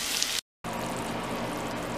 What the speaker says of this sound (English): I have 175 grams of cabbage frying up in about 30 grams of butter